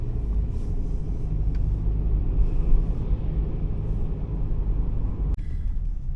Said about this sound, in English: Oh, I gotta watch out for the bus.